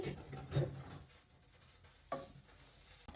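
Chicken montaj stirred in a pan, a faint, soft scraping of a spoon with a couple of brief louder scrapes separated by quiet gaps.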